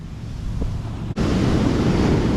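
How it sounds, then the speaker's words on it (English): Ocean waves break in a harbor, churning up white water; loud, steady surf and rushing water fill the scene, with a brief dip before the roar swells again. "Now wait for this wave to recede back."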